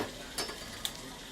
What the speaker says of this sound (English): the pan's sizzling hot